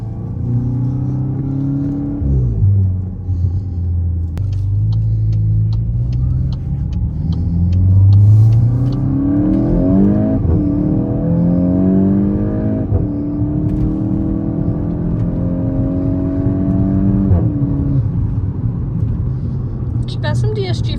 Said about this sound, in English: Ooh, you get some mad DSG farts.